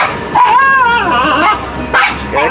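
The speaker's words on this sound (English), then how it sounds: "That's a big doggy." A large dog vocalizes close by at a marina with whining, yelping barks that rise and fall in pitch, a couple of separate bursts.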